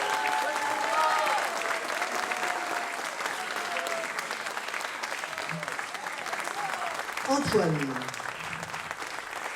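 An audience at an ensemble-class concert applauds as students are called up, steady crowd clapping throughout with a voice briefly announcing a name over it near the end.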